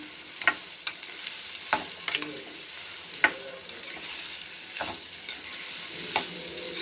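Food fries in a pan with a close, steady sizzle, punctuated by several sharp scrapes and knocks of a spoon stirring against the metal.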